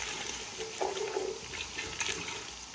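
Water is poured into a pan of frying masala for achari dal, giving a brief splashing sizzle and hiss under steady background noise.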